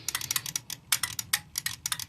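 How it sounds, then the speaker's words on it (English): The timer on a never-used vintage Maytag dishwasher ticks in quick, uneven runs of small sharp clicks, close and fairly quiet, with no voices. "You can hear the timer clicking."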